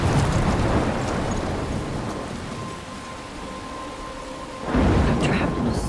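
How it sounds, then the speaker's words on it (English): A thunderstorm from the video game Life Is Strange: heavy rain hisses continuously while low rumbles of thunder roll in, fading midway before a fresh loud burst near the end, with no speech. "I'm trapped in a storm."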